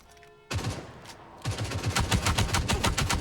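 Bursts of automatic gunfire from a mobile shooting video game, a short volley followed by a longer rapid stream of shots, loud and close with no talking.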